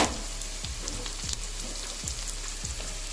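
Chopped onions fry in oil on a hot tawa for egg fried rice, a steady close crackling sizzle with small stirring knocks spaced through it, and no voices.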